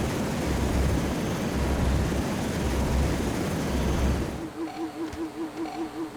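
Twin-propeller airplane engine in LEGO City Undercover, a loud, steady droning roar that holds for about four seconds, then drops to a quieter pulsing hum with a wavering tone.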